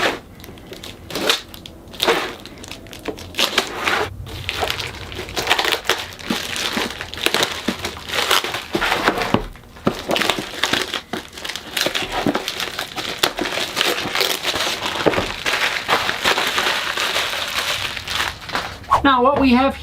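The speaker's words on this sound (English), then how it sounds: "We're going to get rid of this packaging." Plastic and cardboard packaging from a Reolink Argus 3 wireless security camera and solar panel crinkles and crunches loudly and close, in bursts of handling through the whole stretch, with a voice heard briefly.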